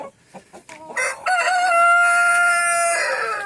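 A Colombian Brahma rooster crows close by on a farm, one long drawn-out call after a few short clucks from the hens.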